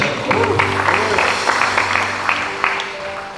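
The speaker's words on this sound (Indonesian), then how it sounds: "Tepuk tangan dulu" Church congregation at an Indonesian church dedication service clapping, a brief burst of applause mixed with crowd murmur and a few voices over low background music.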